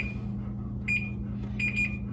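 Electronic kitchen timer beeping while baking sourdough bread, a few short high-pitched beeps in quick bursts over a steady low appliance hum, close and clear.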